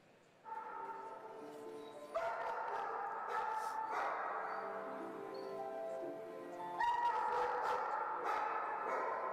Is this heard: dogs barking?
yes